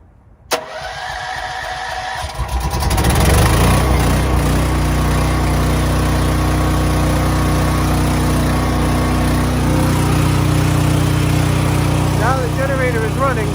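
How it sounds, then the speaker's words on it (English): A Duromax generator running on natural gas cranks with a sharp start, catches, and settles into a loud, steady mid-pitched engine drone. Faint voices come through near the end. "I'm going to start up the generator."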